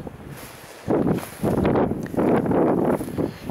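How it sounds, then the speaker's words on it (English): Strong wind gusts outdoors at the earthwork site of Wood Walton castle, near the old motte, roaring and buffeting the microphone in loud broadband surges, with a quieter spell at the start before the gusts build. "It is very, very windy."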